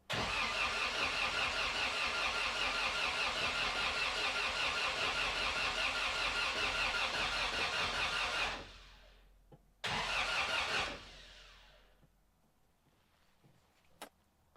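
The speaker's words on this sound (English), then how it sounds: "that's a bit of cranking with no oil pressure" A freshly built engine in a 1979 Toyota Corolla cranks over on the starter with no fuel pump fitted, a steady loud churning drone for about eight seconds, then a short second burst before it falls quiet.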